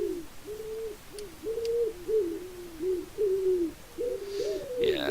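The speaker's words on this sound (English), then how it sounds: "Loud birds." Pigeons in a video game coo repeatedly, soft hooting phrases following one another in a steady rhythm, fairly quiet and close, with a brief brighter flutter near the end.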